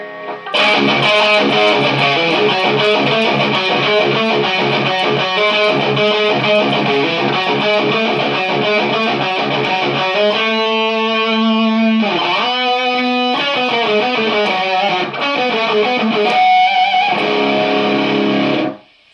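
A loud electric guitar plays chords and riffs through a metal distortion pedal with the boost turned all the way up, heavy, sustained and buzzing, with a few choppy muted passages before it cuts off.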